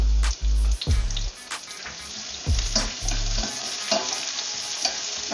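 Onion sizzles in a hot pan with golden garlic while a utensil stirs, steady frying hiss broken by repeated scraping thumps, for a Filipino octopus adobo stew.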